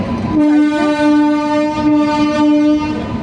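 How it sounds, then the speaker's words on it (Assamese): A train rumbles past close by as its horn blares in one long, steady tone over the rolling noise of the cars. "আমাৰ পিছপিনে ট্ৰেইন গৈ আছে"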